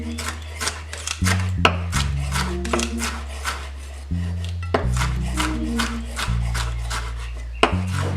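Knife chopping red pepper on a cutting board, a string of quick crisp cuts and scrapes in irregular bursts, close and fairly loud over a low steady background hum, no talking.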